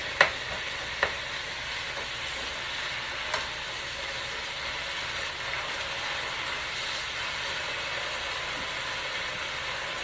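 Meat and vegetables for pepper steak crackle and sizzle steadily in a pan, with a few light clicks and knocks from stirring over a dense, even frying hiss.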